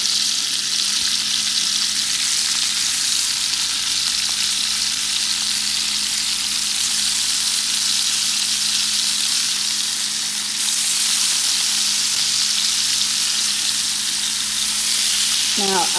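Egyptian kofta fry in a pan with an even, continuous sizzle that holds steady and close for the whole stretch, swelling slightly near the end, with no talking.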